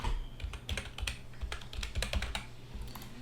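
Steady, close typing on a computer keyboard fills a short run of rapid, irregular key clicks with no voice over it.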